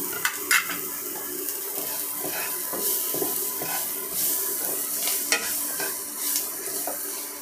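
Peas and vegetables sizzle and fry in a pan while a utensil stirs and scrapes intermittently, with a few sharp clinks against the cookware.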